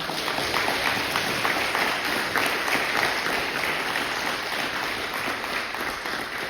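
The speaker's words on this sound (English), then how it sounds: "round of applause for color guard, short guard, all the color guards" A crowd applauds the color guard with a dense, continuous wash of clapping that stays loud and even throughout, with no voices standing out.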